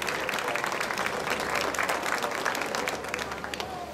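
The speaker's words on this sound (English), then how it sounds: "So let's give them a round of applause for all the winners." An audience at a junior livestock show applauds the winners with steady, dense clapping that carries on throughout without talk.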